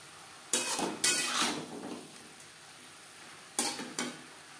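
Boiled chow mein noodles being stirred in a pan for chicken chow mein: two pairs of short, clattering scrape-and-toss bursts with a faint sizzle underneath, separated by a quieter pause.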